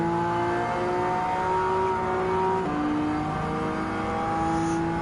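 A Suzuki Cappuccino's small engine drones loudly and steadily, with pitch shifts as it climbs through gears while overtaking in a Gran Turismo 7 race. The sound stays close and continuous, with no talking over it.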